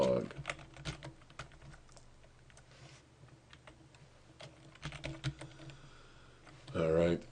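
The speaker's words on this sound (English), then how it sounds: "I got to retype this." Keys clatter on a computer keyboard in quick, uneven bursts of clicks, faint and close, with someone talking at points through the passage.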